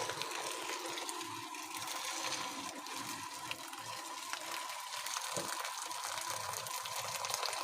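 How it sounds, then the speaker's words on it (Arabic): Hot water poured from a kettle into a pot of fava beans, a steady gushing, splashing stream that runs continuously and fairly close throughout. "هنضيف معايا الميه السخنه، شايفين من الكاتل بتتكتك."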